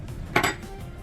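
Handling of a fork and spoon from a takeout bag of paneer masala, heard as a brief close clatter of metal utensils in a short burst, with no talk over it.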